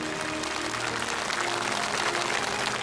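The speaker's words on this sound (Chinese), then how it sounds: "我们再次把掌声送给欣欣好吧。" A studio audience at a Chinese TV singing contest claps steadily, a sustained wash of applause heard close and even throughout.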